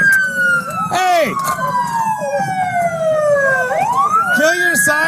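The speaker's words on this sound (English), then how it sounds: "Kill your sirens!" A police siren wails loudly nearby during a hit-and-run suspect stop, its pitch sweeping slowly down and back up, with short yelping bursts and traffic rumble underneath.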